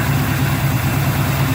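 A Chevrolet Monte Carlo with a V8 crate engine, past its break-in period, idles steadily up close, a loud, even low rumble with no revving or talk.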